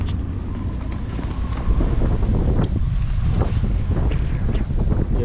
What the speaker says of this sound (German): Man hört das Pfeifen des Sturms.